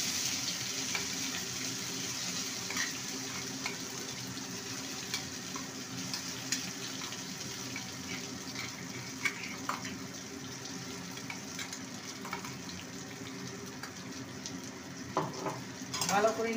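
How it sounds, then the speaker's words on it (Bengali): Pea paste fries in a hot tempering of whole cumin and a pinch of asafoetida, giving a steady close sizzle with occasional stirring scrapes and a clatter at the end. "ফোড়নটা ভাজা হয়ে গেছে, এবারে মটরশুঁটির পেস্টটা দিয়ে দেবো।"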